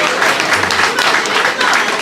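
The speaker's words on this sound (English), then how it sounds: "Give them a round of applause." Enthusiastic audience applause for prize winners at a cruise ship party on the Norwegian Pearl, a dense, loud, continuous clapping with a brief murmur of voices underneath.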